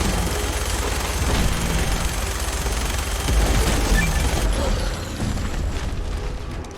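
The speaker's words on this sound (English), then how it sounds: "I want to switch over to the minigun since the game gave me one. Come on, shoot." A minigun in Fallout 4 roars in a continuous, dense stream of rapid fire, loud and near, with a brief drop in intensity before it carries on; a voice talks faintly over it.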